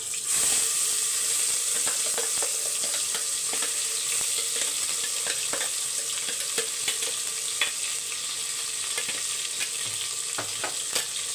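Ground spice paste frying in a pan alongside seaweed, a steady close sizzle with scattered pops and spatters running through without a break.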